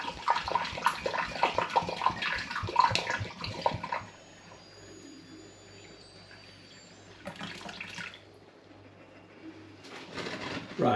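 Home-brew gooseberry and apple wine pours and splashes into a glass demijohn for several seconds, then stops, with a shorter burst of liquid trickling again near the end.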